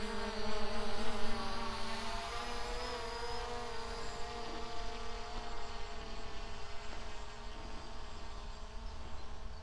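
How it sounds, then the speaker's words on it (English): A ZLRC SG906 Pro 4K quadcopter drone climbs upward outdoors, its propellers producing a constant high-pitched whine with steady harmonic tones, loud and continuous with no talk. "let's go up and just test how high this drone can go."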